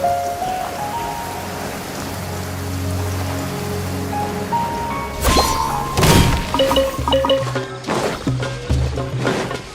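Steady rain pours down during a downpour in Genshin Impact, a constant hiss over faint background music notes, with several sharp splashy thuds and crashes breaking in during the second half.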